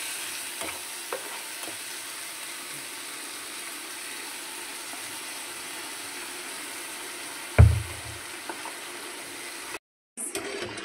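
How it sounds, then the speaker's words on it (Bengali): Vegetables being stir-fried in a pan with salt and turmeric for a mixed curry, a continuous close sizzle with faint scraping of a spatula, one louder clatter near the end and a brief silent break. "লবণ হলুদ দিয়ে এটাকে ভালো করে কষানো হবে।"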